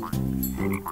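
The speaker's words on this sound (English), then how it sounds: "it's a frog" A frog gives two loud, close, croaking calls in quick succession, deep raspy pulses with a short gap between, heard alone without voices.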